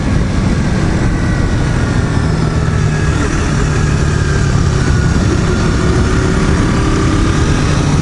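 A KTM Duke 200 single-cylinder motorcycle engine held at wide open throttle on a ride, a loud, continuous droning roar with steady pitch and rushing wind noise close up.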